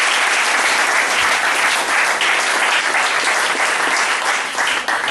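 Church congregation applauding loudly and steadily in a dense, continuous wash of clapping that holds at full strength for the whole stretch, with no voices standing out.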